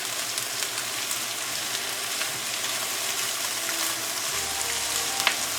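Sausage sizzling in a pan with vegetables for Thanksgiving stuffing, a continuous crackling fry with small pops and spatters, steady and close, with no one talking.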